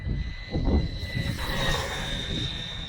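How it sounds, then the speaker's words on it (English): HOSIM JAZEX M12 1/14 scale brushless RC buggy running at full throttle on 3S: a steady high-pitched motor whine over a rushing, rumbling roar, close and loud throughout, no talking. "Get some good speed out of this little 1/14 scale brushless buggy from HOSIM, the JAZEX M12."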